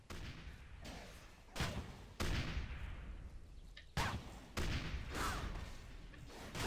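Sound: gunfire in a video game

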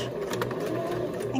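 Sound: sewing machine back stitching soft toy fabric

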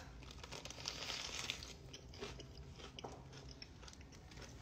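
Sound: chewing lettuce

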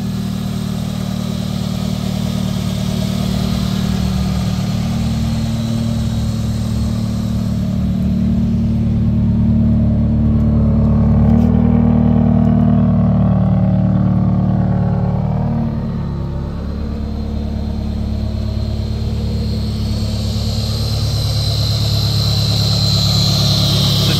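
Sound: car engine running

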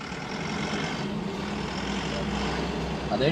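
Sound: garbage truck arriving

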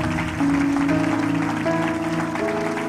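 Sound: audience applause

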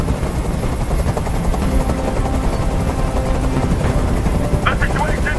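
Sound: helicopter hovering in video game Detroit Become Human

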